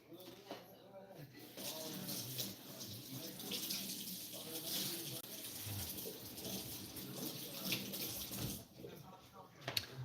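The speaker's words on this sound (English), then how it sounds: "I'm just gonna wash my knife." Tap water runs steadily while a knife is washed in a kitchen sink, a continuous splashing hiss with brief interruptions as the blade moves under the stream; a voice speaks faintly at times.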